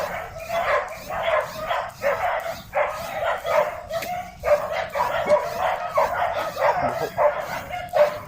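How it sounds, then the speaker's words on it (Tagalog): Several dogs bark and yip repeatedly in bursts, with some whimpering mixed in, at a moderate distance. "Marami pa sa mga aso."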